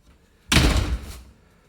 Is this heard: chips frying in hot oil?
no